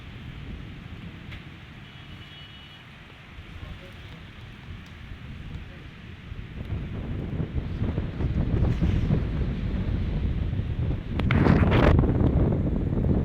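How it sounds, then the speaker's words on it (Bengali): Strong wind gusts and falling rain during a spring storm in Cumilla, Bangladesh, a steady roar that builds louder through the second half, with a brief crackling burst near the end. "আল্লাহর রহমত বৃষ্টি পড়তেছে বাতাস অনেক"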